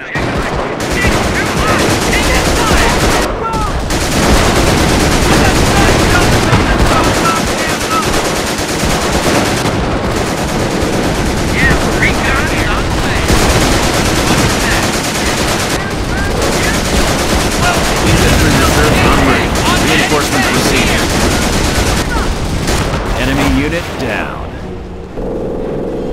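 Dense, continuous battle gunfire in the Company of Heroes Blitzkrieg mod: rattling machine-gun bursts layered with booming blasts, loud and sustained throughout, with soldiers' voices calling out over the din.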